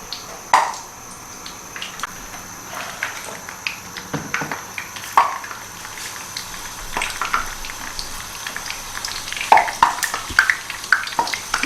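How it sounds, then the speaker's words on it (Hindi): Food frying in a pan with cornflour and maida coating, a steady soft sizzle broken by occasional scrapes and clinks of a utensil, close by with no talking. "सबसे पहले हम इसमें वो फ्राई करेंगे जो थोड़ा ज़्यादा टाइम लेता है"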